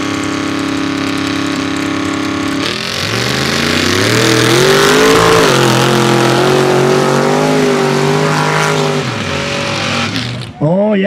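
Two Chevys roar down a mud drag strip, loud engines revving hard and holding a sustained high-pitched howl for about eight seconds before abruptly cutting off, with an announcer's voice beneath the noise.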